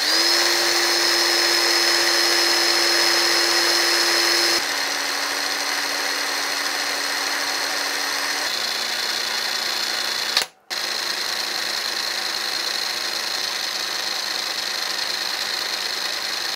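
A Parkside PASSK 20 Li 20V cordless 1/2-inch impact wrench running unloaded at idle, a loud steady motor whine that steps down in pitch across speed settings, briefly cutting out once before resuming.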